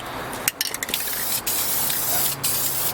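An aerosol can of carpet dye sprays onto a car's carpet in a steady close hiss, broken by a few brief gaps where the nozzle is released and pressed again.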